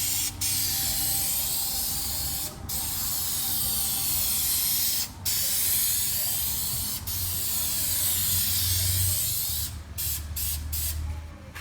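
An aerosol can sprays a coat of Plasti Dip onto the front grille of a Mercedes-Benz C200, a close, loud continuous hiss in several long bursts separated by brief pauses, with a low background hum underneath.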